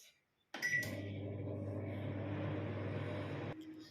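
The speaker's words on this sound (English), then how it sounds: "I'll microwave it for 3 minutes." After a clunk and a short beep, a microwave oven hums steadily at low volume for about three seconds before the hum cuts off.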